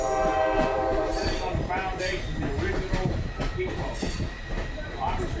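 A Blue Ridge excursion train rolls along the rails with a steady, loud rumble and rattling car noise, punctuated by scattered clanks and squeaks throughout.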